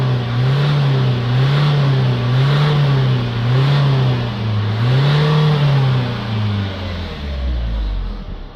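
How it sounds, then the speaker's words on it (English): A close Renault Trafic engine revs repeatedly to clear its exhaust pipe, its pitch rising and falling in waves before winding down at the end. "Now I'm going to increase the revs just to blow any crap out of that pipe."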